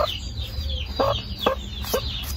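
Chickens cluck in short, sharp bursts roughly every half second against a steady low background hum, fairly close and moderately loud, with no voices.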